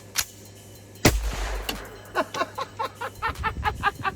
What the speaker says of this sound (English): You ever wonder what an MP40 point blank headshot looks like?